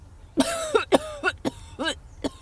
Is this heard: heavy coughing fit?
yes